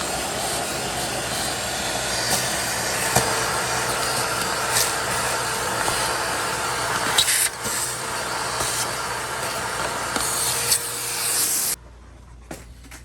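A shop vacuum runs with a continuous loud roar in a Chevy Tahoe engine bay, its pitch shifting slightly as the nozzle moves and sucks up debris, then cuts off near the end.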